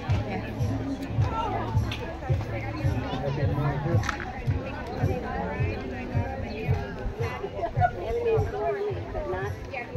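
Steady hubbub of many people chatting and milling around an outdoor farmers market in Moses Lake, Washington, a continuous murmur of mixed voices at moderate distance.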